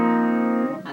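A sustained sus chord, with the fourth in place of the third, rings steadily for most of a second, then fades as a brief new attack enters.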